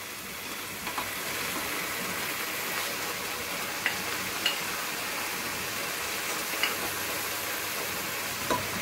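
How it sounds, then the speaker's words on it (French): Spinach being stirred in a cooking pot, a steady soft sizzling wash with a few faint scraping clicks scattered through, no talking. "On va mélanger en haut."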